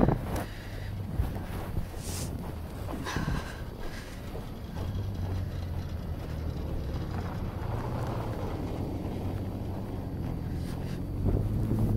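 Cold wind blows outdoors in freezing weather around minus 15, a steady roaring rush with buffeting gusts against the microphone, continuous throughout and without speech.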